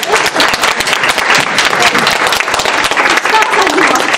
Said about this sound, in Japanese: 最後に水谷さんに大きな拍手をお願いします。